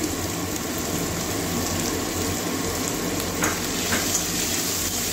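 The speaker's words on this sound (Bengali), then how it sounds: "ভালো করে কষিয়ে নেব।" Masala with chopped tomato is sautéed in a pan for an egg, potato and soya chunk curry, a loud, dense, continuous sizzle with bubbling and occasional stirring scrapes, heard alone.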